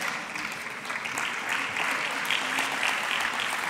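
A crowd applauds warmly, many hands clapping in a continuous, fairly loud wash with a slight swell toward the end.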